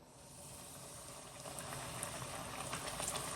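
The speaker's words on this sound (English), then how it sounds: "You're going to have to fry these in batches." Chicken tenders drop into hot oil at 165 degrees, a steady, faint bubbling hiss of deep frying that grows a little louder and crackles more toward the end.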